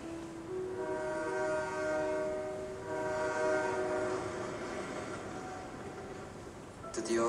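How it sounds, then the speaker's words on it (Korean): A train pulls into a station with a long, steady horn sounding over its continuous rumble, fairly loud and close, ending with a brief clatter. "드디어 기차가 죽음 정거장에 도착했다."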